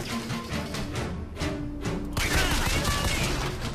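Automated turret firing in BioShock Infinite, a continuous loud burst of rapid gunfire with booming impacts that swells and thickens toward the end, close and dense with no pauses.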